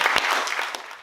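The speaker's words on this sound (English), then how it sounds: "So everyone, they need a round of applause again." A summit audience claps in a short, dense burst of applause, steady and fairly loud throughout with a few sharper individual claps standing out.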